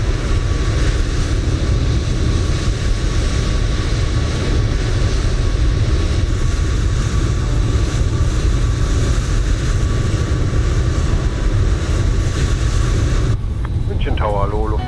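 An airliner in Microsoft Flight Simulator rolls for takeoff on runway 08 left, a steady loud roar of engines and rumble holding for most of the stretch before cutting off abruptly near the end, where a brief voice is heard.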